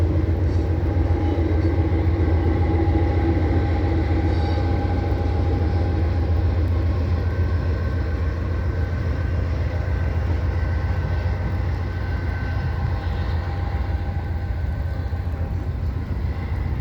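A Norfolk Southern freight train, the 10K, rolls across a bridge, carrying rolling stock that includes an MTA subway engine; a continuous low rumble with droning engine tones holds steady and fairly loud, with no talk over it.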